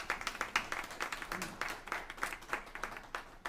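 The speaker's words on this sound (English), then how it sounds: "Can we give them a round of applause?" Scattered clapping from a small crowd at a school district news conference, brisk and uneven, moderately distant and fairly quiet, with no voices over it.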